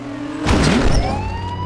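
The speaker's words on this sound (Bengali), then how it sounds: "আবার একটা পুলিশের গাড়ি এসে গেছে" Police car siren in a video game, rising and falling wail that swells in loudly after a short pause and holds steadily over engine noise, with no talk.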